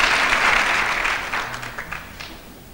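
Students applaud in a university lecture hall at a start-of-year assembly, a loud crowd clapping that fades out over a few seconds.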